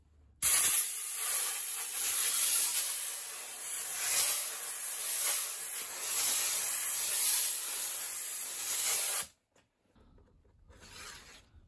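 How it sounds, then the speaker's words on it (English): An air gun blows compressed air through a part of a Bosch condenser tumble dryer: a loud, close, steady hiss lasting about nine seconds, then a brief pause and a fainter short burst. "So I've got compressed air in this gun. I just want to shoot this out and see if anything comes out."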